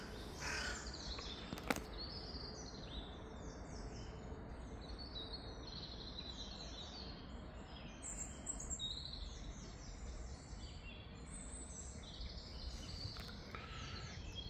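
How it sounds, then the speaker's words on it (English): Birds calling and singing beside a muddy riverbank while fishing, including crow-like caws, faint and distant over a steady outdoor hiss, with one brief knock early on and no talk. "it's just the bird life and the world coming alive"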